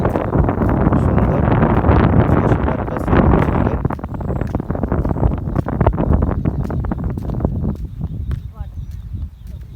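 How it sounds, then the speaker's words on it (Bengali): Wind gusting across rural countryside in Satkhira with water waves, a loud rumbling blast buffeting the microphone, easing slightly in the later seconds. "জলের ঢেউ বাতাস"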